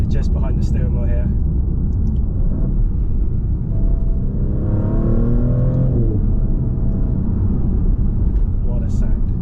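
A Maserati GranTurismo Trofeo in sport mode accelerates from about 40 to 50 mph, heard from inside the cabin as a steady engine rumble that swells into a rising rev mid-way, with someone talking over it.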